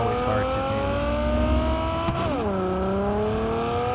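Video game car engine revving hard in a city, with steady high-pitched harmonic whine that drops sharply in pitch at a gear change and then holds, loud and continuous.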